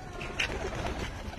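Domestic pigeons cooing softly near the loft at feeding time, a short burst of low calls over faint background noise.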